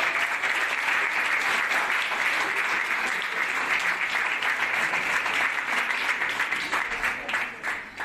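An audience at a Miss Alsace pageant event in Sélestat applauds a third-place finisher, a dense sustained wash of clapping from many hands, loud and even, tapering slightly at the end.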